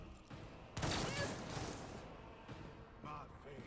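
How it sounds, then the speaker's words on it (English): Gunfire from bolt guns in the Warhammer 40,000 video game Rogue Trader, a burst of heavy shots that starts suddenly and loudly, then sporadic further impacts follow at lower level. "Dang, the commander took a bolt gun shot to the chest."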